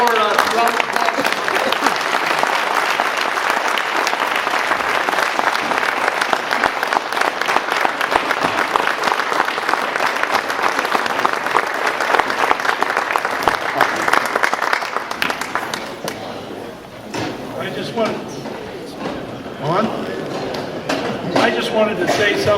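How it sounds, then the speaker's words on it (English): Audience applause at an Iowa GOP Senate primary debate, a long sustained round of dense clapping that fades out after about fifteen seconds, leaving scattered claps and room murmur. "how about one more round of applause?"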